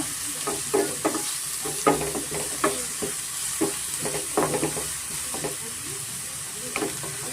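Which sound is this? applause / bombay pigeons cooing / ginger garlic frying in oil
ginger garlic frying in oil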